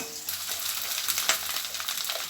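Rice tossed with fried vegetables, cashews and raisins in a kadai gives a steady close sizzle and crackle, with scraping stirs and a few sharper bursts, and no voices.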